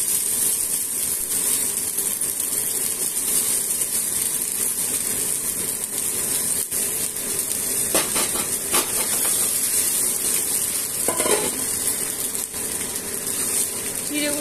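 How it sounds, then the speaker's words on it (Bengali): Washed flattened rice (chira) tipped into a hot pan for a Bengali breakfast pulao, giving a steady loud hiss and sizzle throughout with a few brief clattery bursts near the middle. "চিড়েগুলো অ্যাড করে দিলাম।"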